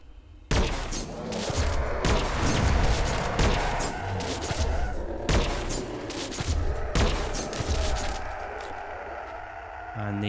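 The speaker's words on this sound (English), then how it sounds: "the S.T.A.L.K.E.R rifle is basically a remote control sniper rifle" Sniper rifle fire in the video game ADACA: loud, sharp booming shots repeat every couple of seconds over a dense rumbling game background.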